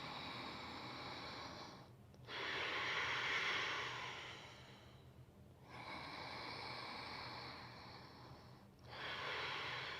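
Long, deep exhales during a yoga twist, three broad breathy swells across about ten seconds with brief pauses between them, close and fairly soft with no talking.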